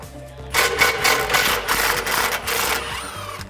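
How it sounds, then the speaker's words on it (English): Bolts of 13mm are loosened from the rear driveshaft hangers of a 2018-2019 Mustang GT, probably with a ratcheting tool, giving a burst of quick, close, loud clicking and whirring that lasts under three seconds. "now we're gonna be removing the two 13mm bolts holding the rear hangers on"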